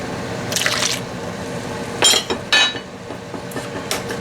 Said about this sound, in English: take some of the broth out quickly. Put it into the paste.